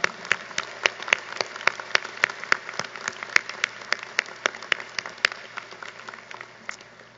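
A law school commencement audience applauding, heard as a sparse, steady patter of distinct individual claps at moderate volume throughout.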